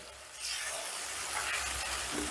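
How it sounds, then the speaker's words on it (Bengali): A paste of ground onion, ginger, garlic and chilli fries in a pan for a potato fritter curry, giving a steady broadband sizzle that swells after a quiet start and holds close and even, with no talking. "এবারে মশলাটাকে বেশ ভালো করে কষে নেব"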